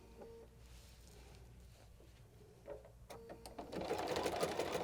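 Sewing machine running a narrow zigzag stitch on a fabric hot pad binding, faint at first and then growing busier and louder over the last two seconds. Only a light background murmur sits underneath.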